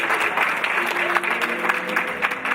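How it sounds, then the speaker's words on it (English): An audience at a school fundraiser event breaks into a dense, steady round of applause, loud and close, with a voice speaking briefly over the clapping. "Please give them a round of applause."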